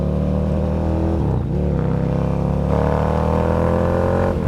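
A Ducati Monster motorcycle fitted with a Werkes competition exhaust revs loudly and close up, its deep, throaty engine note rising and falling through a few throttle blips with no talk over it.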